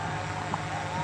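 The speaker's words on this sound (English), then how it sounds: "The noise you hear above is a drone." Drone hovering overhead during a nighttime police and National Guard clearing of a bridge blockade, a steady broad mechanical whir and hum filling the air at moderate loudness, with no clear speech.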